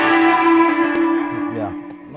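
A sustained electric guitar note rings out with a long echoing tail, repeats trailing off as it fades, with a few faint plucks underneath.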